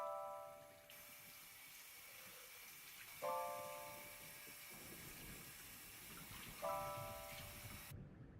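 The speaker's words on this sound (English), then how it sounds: "Now go ahead and rinse that out. Again, I'm using warm water." Warm water runs steadily from a tap while a curly wig is rinsed, a soft continuous hiss and splash, with a few faint tonal squeaks from the plumbing and no talking.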